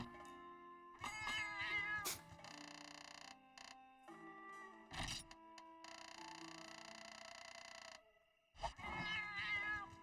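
Cat companion cooking food in the video game Monster Hunter, with cartoonish meows and chirpy cat vocalizations in bursts over mechanical clanks and a sustained musical jingle, fairly quiet.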